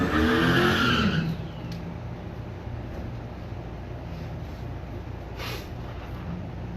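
A pair of Camaros, one a '96 Camaro, launch in a street drag racing final: a loud engine roar and tire noise in the first second, then a steady distant rumble as the cars pull away.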